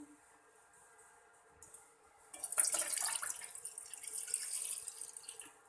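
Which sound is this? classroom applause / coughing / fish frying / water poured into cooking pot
water poured into cooking pot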